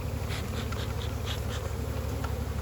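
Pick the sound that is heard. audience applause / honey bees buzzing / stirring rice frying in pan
honey bees buzzing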